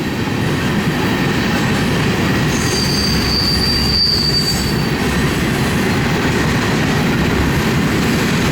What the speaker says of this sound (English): Finally, the trains are moving.